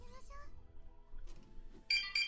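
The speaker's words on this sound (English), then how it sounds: "And my phone is going off again for some reason." A mobile phone rings during a Guild Wars session, two short bright electronic tone bursts near the end over game sounds and quiet chatter.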